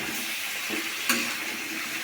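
Steady, faint sizzling of washed, unmarinated chicken frying in a kadai, with a brief clink of a utensil partway through.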